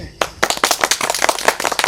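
Loud audience clapping at a Maithili-language nach party stage show, a dense burst of many hands that starts abruptly after a brief pause and carries on steadily and close.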